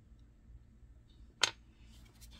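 A single short, crisp snip as a tool cuts into Laguna B-Mix clay with grog while shaping a pinch pot bird, close and clear against a quiet room, with no voice.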